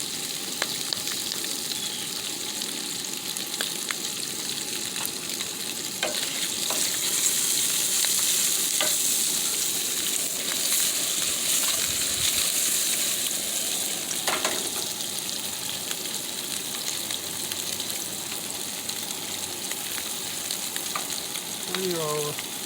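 Kielbasa browning in a hot pan gives a loud, continuous frying sizzle with crackles and occasional stirring scrapes throughout, with no speech over it.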